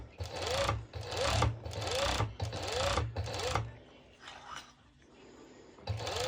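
A serger overlocks fabric for a halter neck top while the fabric is pulled slightly, running in several close, loud bursts of steady whirring with brief pauses between them and one final burst at the end.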